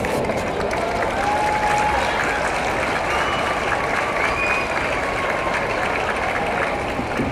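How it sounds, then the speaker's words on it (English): A crowd at an outdoor peace rally applauds steadily for several seconds, a dense, even wash of clapping that holds at a constant level from start to finish with no talk over it. "One more round of applause for the Cook County Board President."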